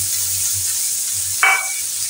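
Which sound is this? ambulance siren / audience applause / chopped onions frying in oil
chopped onions frying in oil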